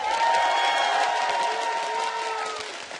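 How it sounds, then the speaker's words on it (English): Live esports crowd at a League of Legends match between CLG and SK cheering and applauding, a loud sustained roar of clapping and shouting that fades slightly at the end. "If you guys want to see CLG come out on top of this one, let's give them a cheer."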